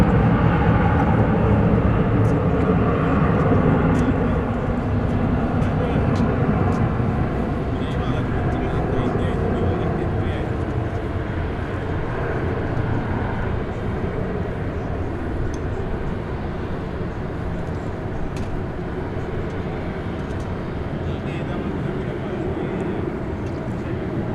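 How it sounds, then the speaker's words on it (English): An Airbus A321 airliner departing DFW Airport at night on flight 1798 to San Diego, a loud sustained engine roar that slowly fades as it moves away. "Plane you just saw go out of your shot there was flight 1798 to San Diego. It's an Airbus A321."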